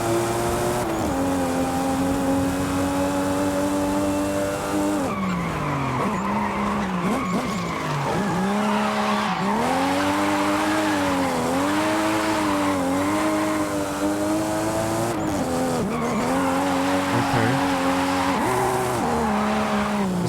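A rear-wheel-drive car in Forza Horizon 5 drives and drifts, its engine droning steadily and rising and falling in pitch, with long tire squeals and skids that continue for the whole stretch, close and loud.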